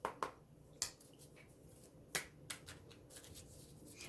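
Tarot cards are drawn and handled close by in a quiet room, giving a few sharp card snaps and flicks spaced irregularly, with soft shuffling rustle in between.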